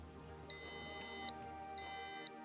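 A quiz show buzzer pressed by a team sounds twice as steady electronic tones, each just under a second long and separated by a short pause, above a low background hum.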